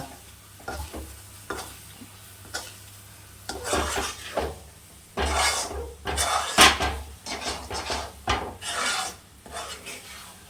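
Thick jackfruit varatti being stirred in a pan, giving repeated scraping, rasping strokes that rise and fall in an uneven rhythm, close and fairly loud with no talk over it.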